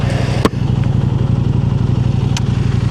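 KTM 890 Adventure motorcycle with an Aero exhaust and the dB killer removed, idling close by with a loud, steady pulsing rumble and a couple of brief clacks.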